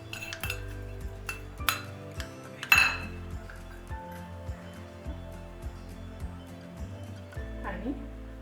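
A spoon clinks and scrapes against a bowl while minced garlic and ginger are mixed into raw mango dal, with a steady series of light metallic taps and one sharper clank as someone speaks.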